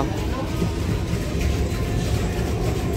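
A passenger train runs at speed, heard from inside the carriage as a dense, loud low rumble and rattle that continues steadily throughout.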